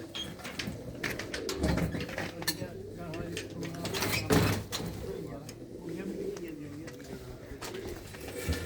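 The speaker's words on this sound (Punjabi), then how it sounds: "ਇਹ ਬਾਈ ਦੇ ਕਬੂਤਰ ਆ" Pigeons kept in a Mansa loft coo softly and repeatedly, close by, beneath ongoing talk and some clatter.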